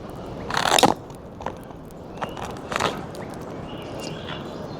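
Camp lasagna being bitten and chewed outdoors on the Oregon coast: a crisp bite followed by several softer, wet chewing crunches, close and fairly quiet.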